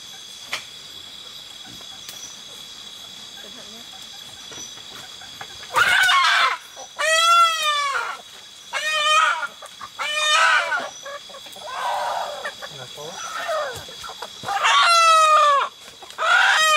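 Chickens and a rooster on a farm, several loud crows and clucks repeating over roughly ten seconds after a quiet start, close by, with faint insects behind and no talking.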